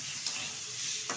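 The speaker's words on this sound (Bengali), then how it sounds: "আবার একটু নেড়ে নিচ্ছি।" Fish curry with cauliflower, potato and turmeric stirred in a pan, a faint steady hiss of cooking with two brief soft scrapes of the spoon.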